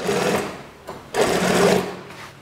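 A sewing machine stitches the armhole seam of a school shirt in two loud, close bursts of steady whirring, separated by a brief pause.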